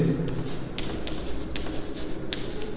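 Pen scratching on paper while a math problem on frustum volume is worked out, a steady soft scribble with a few light taps, close and continuous.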